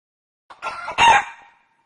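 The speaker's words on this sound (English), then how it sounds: "Do I hear clucking? Did somebody bring a chicken in here?" A chicken clucks in a short burst: two or three close, throaty calls that end in a louder squawk, all within about a second, with nothing else around it.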